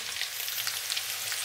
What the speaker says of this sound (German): Jetzt tun wir Zwiebeln rein.